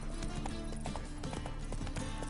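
Roach, the horse in The Witcher 3, galloping with quick, rhythmic hoof clip-clops repeating steadily, close and clear, with faint background ambience under the hoofbeats.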